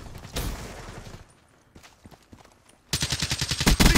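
KN rifle gunfire in a multiplayer shooter video game, a quick burst near the start, sparse distant shots and steps in the middle, then a loud rapid string of evenly spaced automatic shots to the end.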